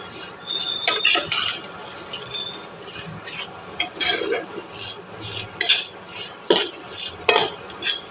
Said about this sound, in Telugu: ఈ సేమియాని నెయ్యికి బాగా పట్టేటట్టుగా మిక్స్ చేసుకోవాలి